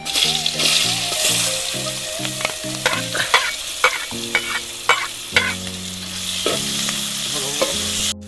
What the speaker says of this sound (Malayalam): അപ്പോൾ നമുക്ക് ഇതിൽ കുറച്ച് വെളിച്ചെണ്ണ ഓയിൽ വെച്ചെടുക്കാം നമ്മൾ ആർത്ത അടുത്ത് തന്നെ ചട്ടി തന്നെയാണത് അപ്പം നമുക്കിതിന് കുറച്ച് ഉള്ളി ചേർത്ത് കൊടുക്കാം